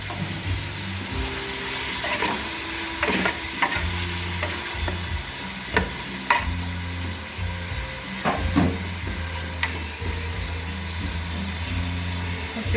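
A spoon stirring and scraping chickpeas frying in a pot, with a sizzle underneath and repeated sharp clinks and scrapes of the utensil against the pot at an uneven rhythm.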